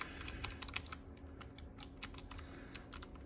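Loud, rapid clacking of keys on a colour-changing backlit computer keyboard used for gaming, dense irregular keystrokes continuing steadily throughout with no talk.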